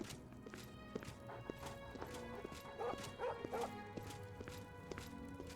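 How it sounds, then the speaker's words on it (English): A dog barks inside a house in The Elder Scrolls IV: Oblivion, a short burst of barks midway, set against steady, rhythmic footsteps and a faint background of game ambience. "And a dog."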